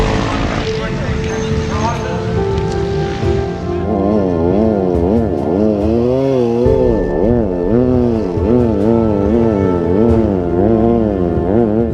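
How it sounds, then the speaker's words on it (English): An overheating off-road buggy, the Sandblaster, with a spiked radiator hose leaking coolant, strains up a sand dune at Hattah, its engine droning loud and wavering in pitch as it labours, with voices talking over it. "The Sandblaster is losing power and can barely make it up the sand dune"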